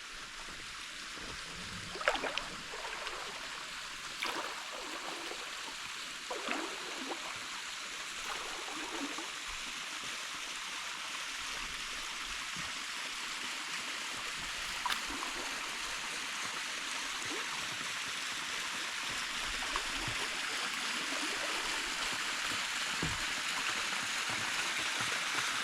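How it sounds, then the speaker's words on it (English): A waterfall at Lake Malone, Kentucky, heard from a kayak, makes a soft, steady rushing hiss that grows slightly louder over time, with occasional paddle splashes and knocks nearby. "This is number 16 and the final waterfall."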